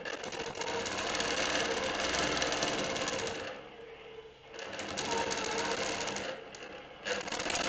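Longarm quilting machine stitching through a quilt, a loud rapid continuous whir that briefly slows and pauses twice before resuming, close and steady.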